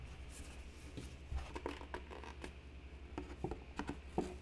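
Scissors snip eye holes into a robot mask made from recycled household materials, giving faint, close, irregular cuts and paper rustles with short gaps between them.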